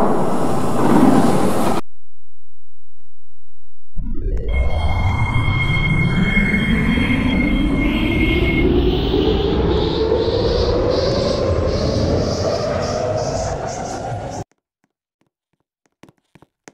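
A metro train pulls away from a platform fitted with screen doors, its motor whine climbing steadily in pitch as the rumble builds, then fading out abruptly after a short announcement-like pause at the start.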